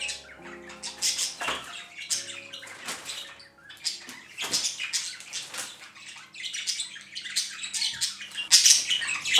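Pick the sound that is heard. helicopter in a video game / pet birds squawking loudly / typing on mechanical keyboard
pet birds squawking loudly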